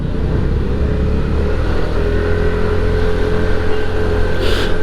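A TVS Jupiter 110 BS6 scooter (2024) on the move, its engine droning steadily and close with loud low rumble and wind noise throughout, no voices.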